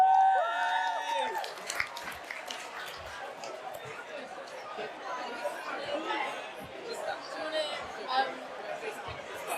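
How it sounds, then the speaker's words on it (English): A crowd claps for a student team as they come up to present at a marketing campaign event, with steady applause and chatter filling the room after a brief musical chime at the start. "Round of applause for Team A, please."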